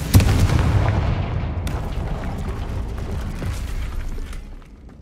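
A Confringo blasting spell erupts in the Hogwarts Legacy game, one loud explosive boom followed by a long rumbling decay that slowly fades over several seconds.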